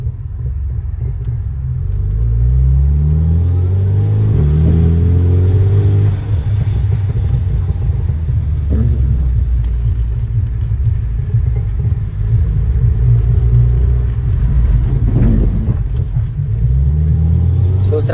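A Volkswagen Jetta TSI Stage 3 engine revs up and down repeatedly, loud and close with a deep rumbling drone, pitch rising and falling, while people talk over it.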